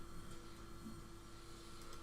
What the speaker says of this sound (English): That Hoover's really loud outside